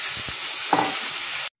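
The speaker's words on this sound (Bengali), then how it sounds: "এবার আমি জল দিয়ে দেবো।" Potatoes and onions frying in a pan sizzle steadily as water is poured in, a brief louder burst of hissing and bubbling near the middle before the sound cuts off.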